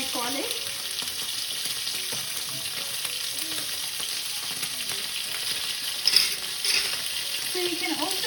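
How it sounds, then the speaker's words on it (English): Steak frying in a pan with a steady, soft sizzle throughout, punctuated by occasional stirring and scraping noises, including a brief louder clatter near the end; no talking. "So after it fries for a few minutes, that's when I add my garlic."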